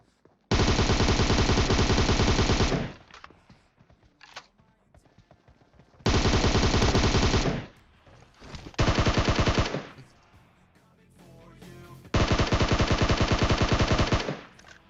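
Three long, loud bursts of rapid automatic gunfire, each lasting a couple of seconds, separated by brief quieter pauses.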